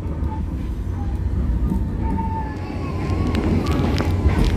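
Cikuray train running straight through Rancaekek station without stopping, a continuous low rolling rumble with faint high squeals, building slightly louder toward the end.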